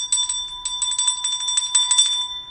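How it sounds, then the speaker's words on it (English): A small bicycle-style bell is rung rapidly, producing a bright, close, metallic trill of repeated rings for about two seconds with no talking. "I gotta ring the bell"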